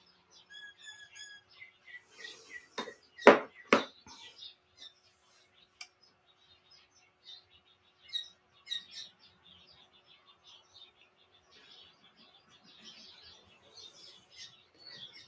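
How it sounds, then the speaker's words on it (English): Birds chirp and tweet outside during a morning indoors, bursts of calls scattered across the clip with a few louder sharp notes early on and quieter twittering after. "the birds are really loud"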